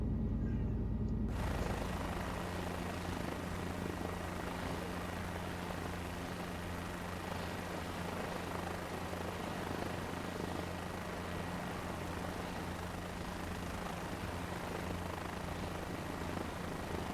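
A helicopter in Microsoft Flight Simulator 2024 lifts off from runway 14, its engine and rotor a steady dense roar with a low throbbing hum throughout, beginning with a brief quieter moment before the sound swells in.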